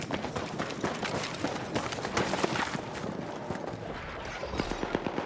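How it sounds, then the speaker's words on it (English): Footsteps of an enemy player in a video game, quick running steps patter steadily through the clip amid dense game noise, loud and continuous without speech. "Right here, I'm listening to footsteps"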